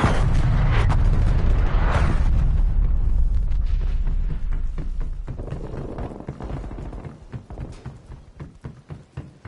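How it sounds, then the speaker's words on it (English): Artillery strike explosions in Call of Duty Cold War: a loud, sustained roar of booming blasts that gradually thins into scattered, fading impacts and debris crackle. "Artillery inbound."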